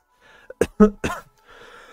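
A few short, sharp coughs from someone recovering from bronchitis, close and fairly loud, with brief breathy gaps between them and no talking.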